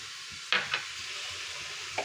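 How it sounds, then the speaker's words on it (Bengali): Chopped onion dropped into a hot pan for a broccoli-stem chachchari, a close, steady sizzle broken by sharp stirring scrapes, two in quick succession and one more near the end. "এই যে পেঁয়াজটা কুচোনো আছে আমি পেঁয়াজ কুচনোটা আমি দিয়ে দিচ্ছি দেখো"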